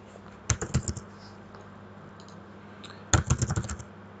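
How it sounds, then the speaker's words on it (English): Two quick bursts of typing on a computer keyboard while entering a command to start Windows 3.11 in a virtual machine, crisp close key clicks with a pause between the bursts. "So we're going to type in CD Windows and Win."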